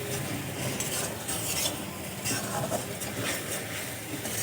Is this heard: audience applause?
no